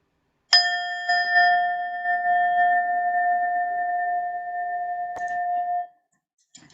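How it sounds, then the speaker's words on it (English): A single bell rung to open a guided meditation gives one clear, close ding that rings out and slowly decays for about five seconds, followed by a faint light tap near the end. "So I'm going to try to use my bell"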